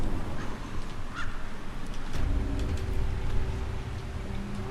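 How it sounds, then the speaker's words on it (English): A crow caws a few times in the Baldur's Gate 3 video game, its calls fairly faint over a steady background wash of ambient game sound. "And the crow followed me anyway, even though I told it not to."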